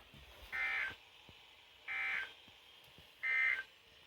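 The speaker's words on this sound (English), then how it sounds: "this is a test of the NOAA Weather Radio's warning device" A NOAA Weather Radio warning alarm test tone sounds as three separate steady high-pitched beeps, each lasting just under half a second, evenly spaced over quiet background hiss.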